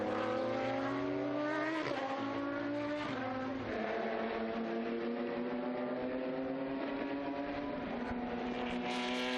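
Historic race cars, including a Porsche, roar past at the Estoril circuit in a steady, loud engine drone, with pitch shifts as the cars accelerate and change gear.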